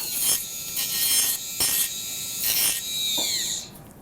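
A rotary burr spinning at about 25,000 RPM rasps over a DuraFlex flexible partial denture, giving several close, gritty bursts of grinding separated by brief pauses, the last pass trailing off as the tool winds down.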